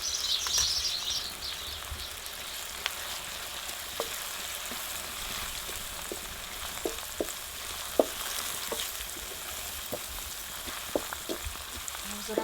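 Chickpeas frying in a pan with turmeric and coriander-cumin spice, a continuous soft sizzle punctuated by scattered small pops and spoon clicks, with a faint bird chirp early on and no voices.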